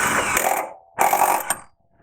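A ratchet snugs the rear subframe bolts on a BMW F2x/F3x during a rear sway bar installation, two close bursts of rapid clicking separated by a short pause.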